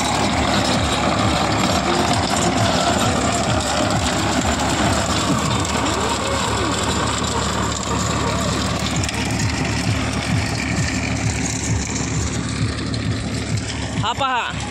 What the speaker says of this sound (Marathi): आमचे मित्र शंभू क्षीरसागर यांचं हे ट्रॅक्टर आहे।